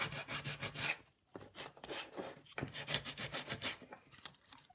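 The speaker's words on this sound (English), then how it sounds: "it's only because I've got some sandpaper that I'm using this sandpaper" Coarse sandpaper rubbed by hand over an old wooden box, producing steady, rhythmic back-and-forth rasping strokes, close and fairly quiet, with short pauses between runs.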